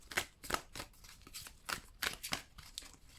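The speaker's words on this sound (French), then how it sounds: "je vais prendre d'autres cartes" Tarot cards shuffled by hand, a quick series of soft riffling flicks and slaps at an uneven rhythm, close and quiet with no talking.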